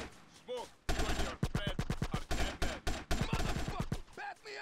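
Rapid gunfire in GTA San Andreas, bursts of sharp loud shots in quick succession, mostly continuous after a brief lead-in with only faint sounds.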